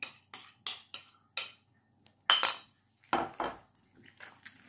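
Starch and cornflour are stirred into a paste in a bowl, producing a run of short, separate clinks and scrapes of a utensil against the bowl, close up with brief pauses between strokes.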